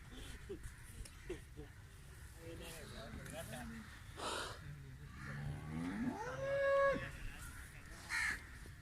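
A Friesian cross cow gives a drawn-out, rising moo at a farm in Pakistan, heard amid background chatter, other animal calls and outdoor noise. The sound is fairly faint, with a short call following afterward.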